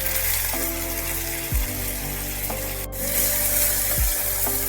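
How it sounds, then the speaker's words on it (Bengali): Chopped tomatoes frying with browned onions and spices in a pan for a mixed-lentil Mughlai dal: a steady close sizzle with faint crackling, a few soft knocks of a utensil, and no talking. "পেঁয়াজটা অল্প একটু লাল রং হয়ে গেলে দুটো কেটে রাখা টমেটো দিয়ে দিতে হবে"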